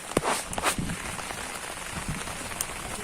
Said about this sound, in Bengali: তো দেখতে পাচ্ছ বৃষ্টি হচ্ছে আর ওদিকে দেখো বৃষ্টি কেমন হচ্ছে